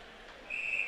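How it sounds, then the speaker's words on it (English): A single steady, high-pitched whistle blast starts midway and holds to the end, over a faint background hum. "And it's going to be a whistle here."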